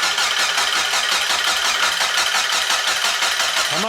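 A rebuilt Mazda Miata engine cranks and catches after an overhaul, a steady loud churning of the starter and engine running close up without a pause for the whole few seconds.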